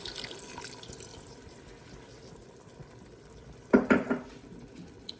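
Half a cup of water poured into a pan of peas cooking with minced meat, a short splashing burst near the end over a quiet background of faint kitchen sizzle.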